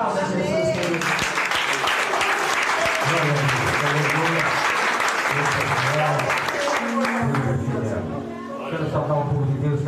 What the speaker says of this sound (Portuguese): Aplausos, Jesus.